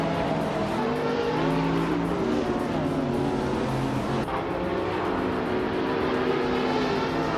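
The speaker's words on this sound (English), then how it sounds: "starting on pole with a 2017 Porsche 911 991 GT2 Rs" A 2017 Porsche 911 991 GT2 RS engine in a racing video game, a loud, sustained high-revving whine whose pitch climbs and shifts through gear changes, close and continuous.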